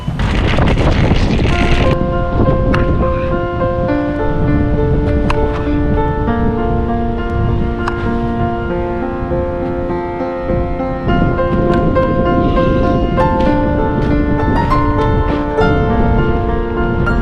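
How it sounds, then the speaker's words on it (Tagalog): Strong wind in Edmonton, Alberta, Canada buffets the microphone with a loud, continuous rumble, tonal hums and beeps faintly audible underneath. "ang lakas ng hangin"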